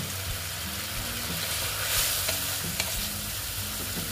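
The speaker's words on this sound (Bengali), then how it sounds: "দিয়ে এটা আমি একটু মশলাটা কষে দেব।" Spice paste and bitter gourd being sautéed in a pan for a Bengali bitter gourd dish, a steady close sizzle with scraping stir strokes and a few sharper clinks, no talk.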